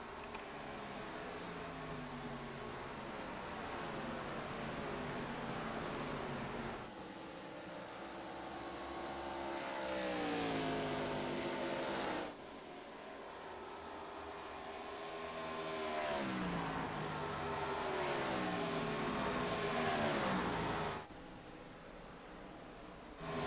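Stock cars circling Homestead-Miami in an iRacing ARCA Series race, several engines droning steadily with rising and falling pitch sweeps as cars pass, a continuous loud mechanical roar with no talk.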